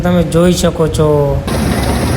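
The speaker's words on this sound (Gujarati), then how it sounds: "કટર કરી દીધું છે ઘઉંમાં સલું અને કટર કંઈક આ રીતનું હાલે છે" A combine harvester cutter runs through a wheat field on a farm, giving a steady, loud mechanical roar that takes over after someone speaks nearby.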